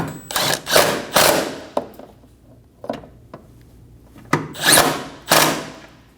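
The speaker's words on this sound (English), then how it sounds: "Snug down the two nuts." Short bursts of a power tool snugging down two nuts on a 2012-2022 Volkswagen Passat windshield washer reservoir, several brief whirring runs separated by pauses, close up with clicks and handling in between.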